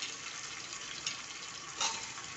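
Potatoes go into reddish onions frying in oil, giving a steady, close sizzle with a couple of brief louder crackles as the pieces hit the pan.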